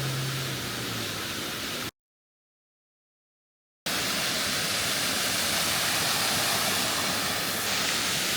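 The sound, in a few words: Bucktail Falls waterfall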